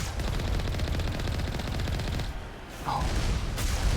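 Turrets firing in Mass Effect 1, a continuous loud rattle of rapid gunfire that breaks off briefly, then resumes at full intensity.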